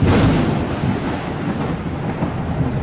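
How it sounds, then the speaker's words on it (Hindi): Loud thunder rumbles together with steady, heavy rain pouring down during a sudden downpour over a village, a dense, continuous roar with no voices. "अचानक आसमान में काले काले बादल छा जाते हैं और बिजली कड़कने लगती है और फिर से मूसलाधार बारिश होने लगती है।"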